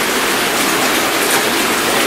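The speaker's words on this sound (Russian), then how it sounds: "Вода бурлит прям." Steady, dense rushing of bubbling spring water, loud and close, with no pauses or voices, at the springs of the Psel River.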